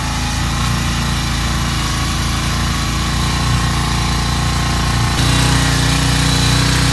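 A grass cutter's small engine runs loud and close, a steady high-pitched droning whine that holds constant throughout with a slight shift near the end, no voices.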